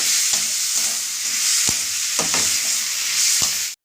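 Spice masala for ghugni sizzles in a hot pan, broken by several scraping stirs of a spoon, loud and close with no talking.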